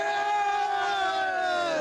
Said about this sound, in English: Let's have a cheer for the side.